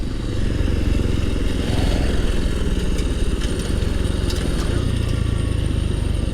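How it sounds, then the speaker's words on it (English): A Honda Trail 125 motorcycle engine lugs in third gear, a loud, close, low pulsing thump with rapid steady firing and a rattly mechanical clatter, with no voices. "The engine is definitely lugging in third gear at this speed."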